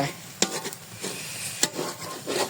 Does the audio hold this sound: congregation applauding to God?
no